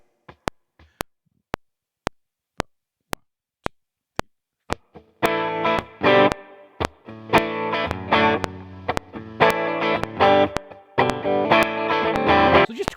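Regular click track ticking alone at 113 BPM, then an electric guitar through a Neural DSP amp plugin with reverb and tremolo joins in loud, strummed chords in time with the clicks.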